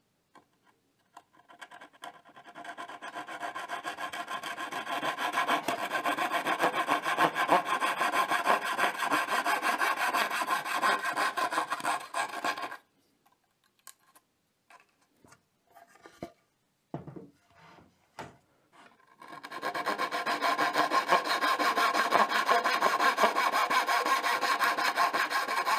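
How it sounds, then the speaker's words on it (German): Long passages of rhythmic hand sawing with a flush saw trimming wooden edge banding flush, raspy back-and-forth strokes, close up, broken by a pause with scattered taps before sawing resumes. "kann ich dann wieder die Bündigsäge nehmen und kann mir hier die"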